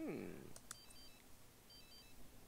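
A mobile phone rings in The Sims 3, giving short tonal electronic chirps in a repeating pattern over background game music, with speech near the start.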